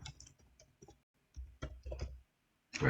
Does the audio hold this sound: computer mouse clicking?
yes